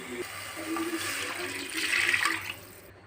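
Water is poured steadily into a cooking pot for rice rava porridge, a continuous close splashing and filling sound lasting a few seconds.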